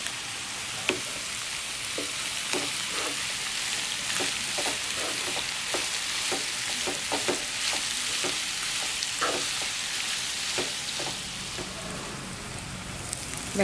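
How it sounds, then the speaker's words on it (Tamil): Onions frying in a pan until golden, a steady rain-like sizzle that fills the whole clip, with sporadic small pops and crackles and no voices. "வெங்காயம் பொன்னிறமாக வதங்கிடுச்சு."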